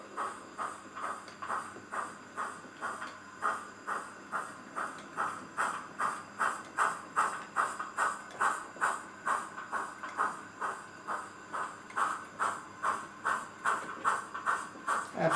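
A model Class 9F steam locomotive with DCC sound runs on a layout, giving a steady, regular chuffing beat with a faint hiss underneath, even and moderately loud throughout with no talk.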